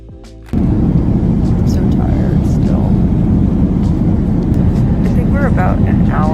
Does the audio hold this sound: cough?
no